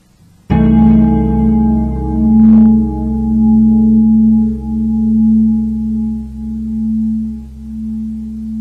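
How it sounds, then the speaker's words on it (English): Chord with a sharp 9 and sharp 5, built from stacked major and minor triads, struck after a short silence and left to ring loud and sustained, slowly decaying over several seconds. "we're going to go ahead and play now the sharp 9 with the sharp 5"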